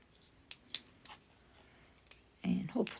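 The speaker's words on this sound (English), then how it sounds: "I'm going to trace my hearts on the back here and then cut them out" Scissors snip paper to cut out hearts, producing a handful of short, crisp cuts spaced irregularly at close range, followed by a brief voice near the end.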